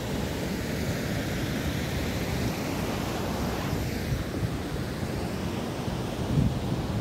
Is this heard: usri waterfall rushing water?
yes